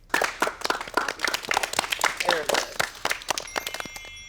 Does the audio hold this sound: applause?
yes